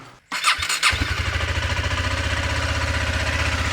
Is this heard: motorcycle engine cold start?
yes